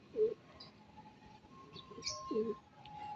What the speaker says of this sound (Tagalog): Mayroon ng kalapating nagdadatingan.